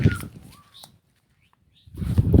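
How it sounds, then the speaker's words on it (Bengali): Small birds give a few brief, faint chirps and whistles in an open village field beside a mosque, set between louder bursts of rustling noise at the start and end. "আছে পাখির কিচিরমিচির ডাক"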